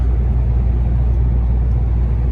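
A steady, loud, low rumble of a vehicle driving on the road, heard from inside with constant engine and road noise and no talk.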